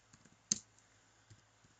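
Sparse, quiet clicks of keys as a command is typed on a computer keyboard, a few soft taps with one sharper keystroke, in an otherwise near-silent room.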